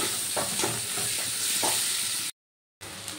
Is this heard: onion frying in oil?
yes